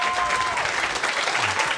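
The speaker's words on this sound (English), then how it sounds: "Ladies and gentlemen, please give it up for the fantastic Mary Beard" A theatre audience applauds at a live podcast recording, dense steady clapping filling the room, with a voice briefly heard over it.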